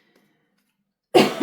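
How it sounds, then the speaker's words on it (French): A single harsh cough bursts in after about a second of near silence, loud and close, ending the clip. "j'espère que je vous ai vraiment pas cassé les oreilles avec ma toux"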